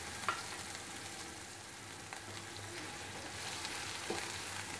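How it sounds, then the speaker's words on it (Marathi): Freshly ground spice paste for matar paneer sautés in a pan. It gives a continuous moderate sizzle with scraping stirs and small ticks throughout, and no one speaks. "यामध्ये आता आपण हे वाटलेले मसाले जे आपण मिक्सरमधनं काढून घेतले होते हे व्यवस्थित परतून घेऊया"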